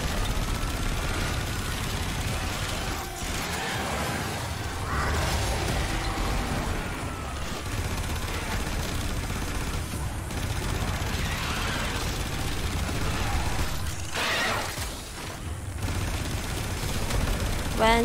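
Continuous gunfire and explosions in the game Warframe during a boss fight, dense overlapping shots and bursts forming a steady noisy barrage throughout.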